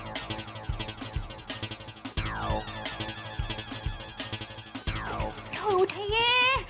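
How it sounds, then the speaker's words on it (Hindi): A telephone ringtone plays on and on without being picked up in a home scene from a family sitcom, a repeating melodic ring mixed with background music at moderate loudness. "अभी पूरी रिंग चली गई, लगता है वो घर पहुंची नहीं है अभी तक"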